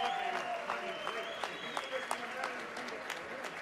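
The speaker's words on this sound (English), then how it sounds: "how about a huge round of applause for these two amazing" Applause from the boxing crowd for two fighters after the Vanes Martirosyan vs Mario Lozano bout, sustained clapping with cheers and whistles and some talk mixed in.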